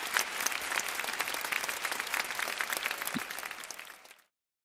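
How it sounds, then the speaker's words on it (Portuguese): An audience applauds at a workplace safety talk, a dense burst of clapping from a crowd that carries on for about four seconds and then cuts off abruptly, no speech. "Salva de palmas para o Marco."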